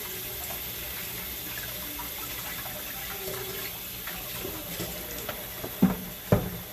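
Running tap water pours steadily into a kitchen sink while hands get rinsed after mixing meatloaf burgers, a constant close hiss with a couple of louder splashes near the end.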